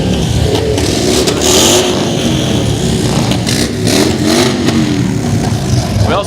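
Indian motorcycle engines revving at an outdoor veterans parade, loud and close with a continuous throaty rumble that rises and falls, mixed with crowd noise.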